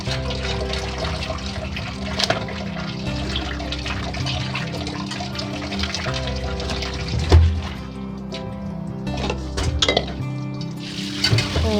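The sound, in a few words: washing quail meat with water in a large vessel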